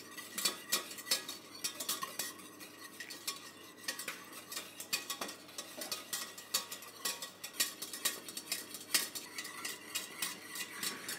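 Eggs whisked by hand in a bowl as the base of a sabayon: quick, rhythmic metallic clicks and scrapes run steadily throughout, close and fairly quiet, with no talk.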